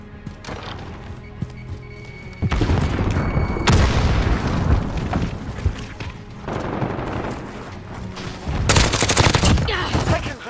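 Gunfire from a Grau rifle rattles through a video game deathmatch, with close, loud bursts of rapid shots and heavier booms rolling over one another across the whole stretch.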